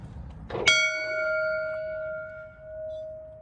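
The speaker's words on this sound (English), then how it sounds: "We can ring the fire bell." A single loud church fire bell strike rings out after a soft knock, its clear metallic tone sustaining and slowly fading over a few seconds.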